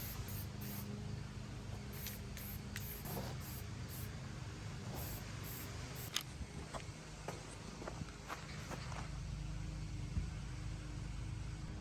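A spray paint can lays a coat of paint onto a BMX bike frame, with repeated short hissing bursts over a low background, close to the mic, along with occasional footsteps and small knocks.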